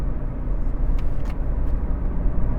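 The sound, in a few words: 2014 Ford Fiesta 1.5 TDCi driving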